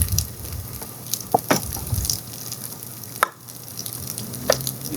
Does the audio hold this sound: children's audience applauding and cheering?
no